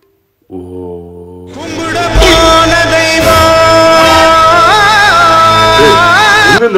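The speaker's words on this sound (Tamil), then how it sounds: "அப்பா புட்டாவோட பாக்கெட்ல இருந்து இப்ப சவுண்ட் வருது." A song plays loudly from a Bluetooth speaker tucked in a pocket, starting with a held tone and then building into full music with melodic lines that continues steadily to the end.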